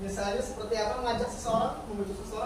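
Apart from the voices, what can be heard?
No everyday noises stand out.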